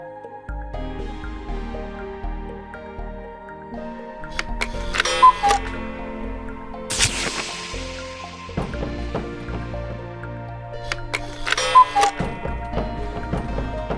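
Clock ticking and chiming in a children's educational program about time, with musical tones and bright bell-like accents repeating at a steady pace, near and clear, with no talking.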